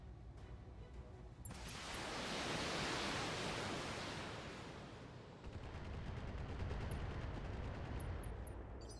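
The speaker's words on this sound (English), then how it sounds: "so I will use both missiles at him" Missile strike in the BattleTech video game: a loud, sustained roaring blast of explosive noise swells after a quiet start, fades briefly, then rumbles back in heavy waves.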